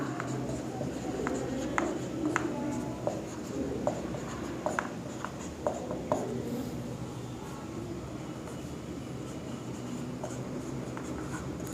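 Chalk or marker taps and scratches on a board during a physics lesson, a series of short sharp strokes in irregular rhythm over a steady background hum.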